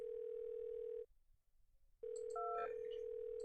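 A telephone rings in the point-and-click adventure game Thimbleweed Park: a steady electronic ring tone sounds for about a second, stops for a second, then returns with a brief clatter of game sounds over it.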